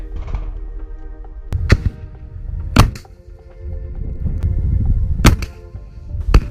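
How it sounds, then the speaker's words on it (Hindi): Several sharp, loud blasts ring out one after another over a low rumbling background, rockets firing and tanks exploding in a Rafah attack on Israeli Merkava tanks. "इन टैंकों में से एक के बाद एक धमाके होने लगते हैं।"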